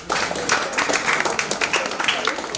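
Steady crowd applause at a retirement function, close and fairly loud, with dense overlapping claps running throughout and some voices mixed underneath.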